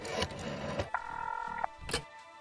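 A phone in the video game The Darkside Detective 2 is dialed, giving a short burst of steady electronic dialing tones lasting under a second, framed by a voice talking just before and after.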